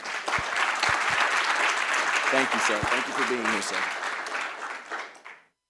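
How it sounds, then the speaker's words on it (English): An audience gives a warm round of applause for a doctor at a public gathering, broad sustained clapping throughout that fades out at the end, with someone briefly speaking thanks over it. "Please give him a warm round of applause"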